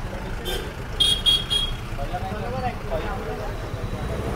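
Busy evening road traffic in a Maharashtra town, with several short car horn toots in quick succession over a steady background rumble of vehicles, and a voice talking nearby.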